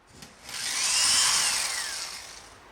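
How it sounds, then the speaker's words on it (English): A power drill whirs steadily for a couple of seconds, boring holes into a wall, its pitch rising then sliding down as it bores in, at moderate distance. "Now's the time to drill the holes."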